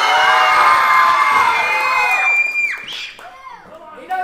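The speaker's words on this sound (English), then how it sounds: "If you think Pierce is going to win this one, make some noise" A wrestling event crowd at a fair cheers, shouts and whistles loudly for about two and a half seconds, then the noise drops off into scattered voices and a few lingering yells.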